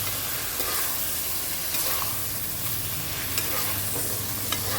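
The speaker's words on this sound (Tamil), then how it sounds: "காடை ஓரளவுக்கு நல்லா வதங்கிடுச்சு." Quail pieces sautéing in a pan for a quail gravy, a steady close sizzle and fry with occasional stirring scrapes throughout, no talk over it.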